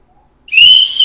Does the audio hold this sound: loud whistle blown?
yes